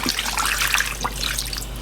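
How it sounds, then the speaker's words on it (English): Water pours steadily into a crock pot holding raw chicken breasts, a continuous splashing trickle heard up close with no talking. "So that means I'm gonna do about 3 cups of water"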